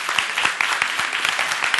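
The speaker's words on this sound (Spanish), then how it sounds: "Aplausos" Seminar attendees applaud in a smallish room, with distinct individual claps standing out of a steady patter at moderate loudness.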